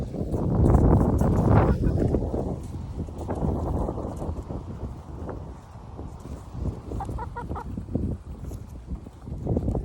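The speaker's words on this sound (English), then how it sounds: "It's windy out today" Strong wind gusts buffet the microphone outdoors on a snowy day, a rough, rumbling roar that swells and fades, with faint bird calls and brief bits of distant sound mixed in.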